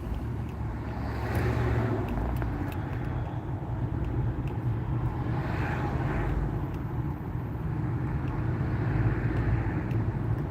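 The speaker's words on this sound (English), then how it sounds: "I'm in areas of high traffic, like where I am right now. It's lots of traffic." Steady road traffic rolling past close by, a continuous low rumble of engines and tyres with a few swells as vehicles go by, no voices over it.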